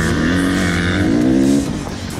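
A motorcycle runs on a track in extreme heat, its engine holding a loud, steady high-revving drone that rises briefly and then eases off near the end, with no talk.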